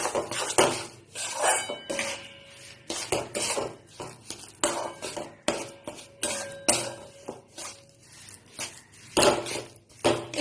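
Metal spoon scraping and clanking against a pan as besan is stirred and roasted in ghee, a busy run of close, irregular clatters and scrapes with brief pauses, no voices.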